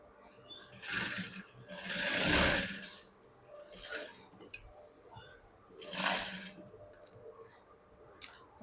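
Sewing machine stitching the side seam of a blouse, running in several bursts of rapid whirring clatter, close and moderately loud, separated by quieter pauses with faint clicks, no talking.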